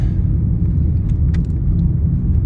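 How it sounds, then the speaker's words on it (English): A Volkswagen Jetta on the road after new sway bar end links were fitted, heard from inside as a steady low road rumble and engine drone, with no speech. "take it for a ride. Okay, driving along."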